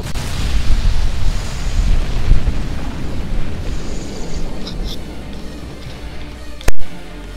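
A big explosion in the Iron Man video game, a loud rumbling blast that rolls on for several seconds and slowly fades, followed by a sharp single bang near the end.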